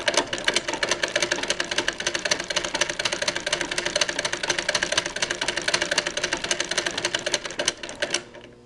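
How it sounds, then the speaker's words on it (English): A home sewing machine stitches fabric for capri pants in a fast, steady mechanical clatter, close and loud, running without pause for about eight seconds before winding down. "I was just stitching with this a moment ago"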